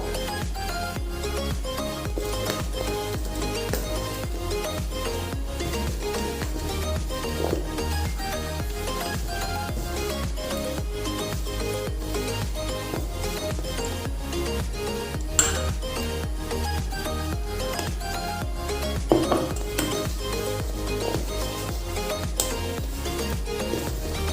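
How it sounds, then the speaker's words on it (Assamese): Malpua batter being mixed with jackfruit juice in a bowl, with steady clinking and stirring of utensils throughout, alone and without talk. "এতিয়া কঁঠালৰ ৰস দি ইয়াত আমি মিশ্ৰণখিনি বনাই ল'ম।"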